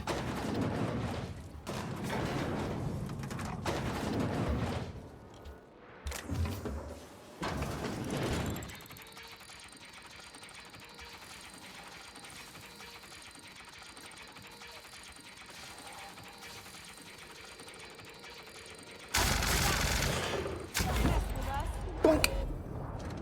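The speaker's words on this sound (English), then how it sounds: "Oh, there's an elevator." An elevator ride in The Outer Worlds video game gives a steady, low mechanical hum with faint tonal whine for about ten seconds. Louder, busier game sounds come before and after the ride.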